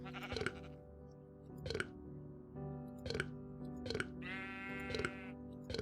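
Sheep in the TerraFirmaCraft Minecraft game bleating repeatedly, several short nasal bleats spaced about a second apart over a steady game background, clear and close with no talk.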